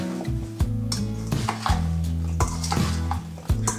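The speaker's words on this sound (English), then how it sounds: "add your apple slices to the mixing bowl and slowly stir until the apples are thoroughly" Apple slices are slowly stirred in a mixing bowl to coat them before dehydrating into chips: a steady clatter and scrape of utensil on bowl repeats under continuous background music.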